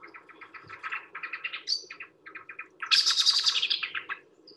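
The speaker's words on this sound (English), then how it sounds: "the chinking call of the blackbird, which is easily one of the most agitated birds" A blackbird in a garden gives rapid, agitated chinking alarm calls in quick bursts, rising into a louder, excited rattle before trailing off.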